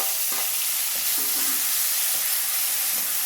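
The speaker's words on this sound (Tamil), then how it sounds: "வெங்காயம் நல்லா வதங்கட்டும்" Onions sauté in oil with tomato and green chillies for a kuzhambu, a loud steady sizzle and hiss close up, with a few brief scraping stirs of a utensil along the pan.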